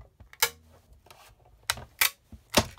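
Crinkling from a die being run through a Big Shot die-cutting machine while making stamped cards: a few sharp, brittle bursts at close range, separated by quieter rustling, with no talk.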